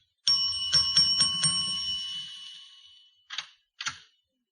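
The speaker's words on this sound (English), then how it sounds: "And try the bell." Doorbell rung several times in an old-time radio detective drama, a quick run of bright clanging rings with a lingering decay, then a pause and two more short rings, alone without talk.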